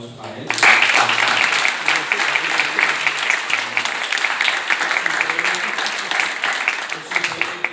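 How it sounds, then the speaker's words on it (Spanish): An audience at a book fair opening applauds a poet who just won a poetry prize, a sustained burst of clapping that begins abruptly and continues for several seconds, with voices mixed in among the clapping. "pido también un aplauso para él"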